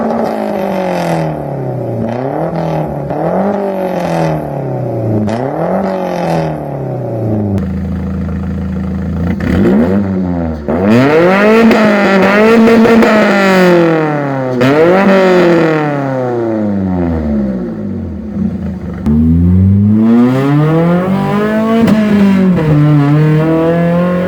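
A Volvo 740 fitted with a racing exhaust header revs hard on a dyno, its loud engine note repeatedly climbing and falling in long sweeping pulls, sounding rather high-pitched and racy, with no talking.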